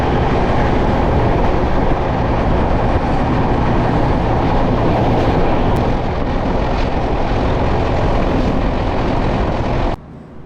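A passenger train runs on the Kolkata to Siliguri line toward NJP, heard from inside with a loud, continuous roar and rumble of wheels on rails that drops off sharply at the end.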